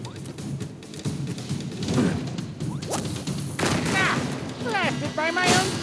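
Cannon fire in the video game Skylanders Trap Team: several booming, crashing blasts mixed with whooshes and chirpy game effects, while a character's voice speaks.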